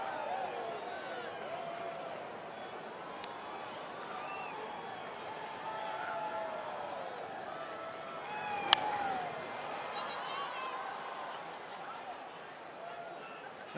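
A baseball stadium crowd at a Cincinnati at Chicago Cubs game, steady distant roar of chanting voices and scattered screams and whistles, broadcast voices talking over it.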